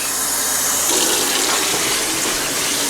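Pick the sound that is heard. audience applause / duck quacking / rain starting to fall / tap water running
tap water running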